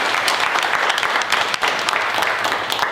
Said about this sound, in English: Let's give him a round of applause as he walks to the front.